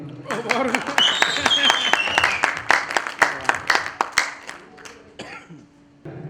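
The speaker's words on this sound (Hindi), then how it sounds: "भाई तेरी तालियां कम है।" Applause from an audience at a music show mixes with a singer's vocals and a few cheers. Claps are sharp and close, starting dense and thinning out toward the end.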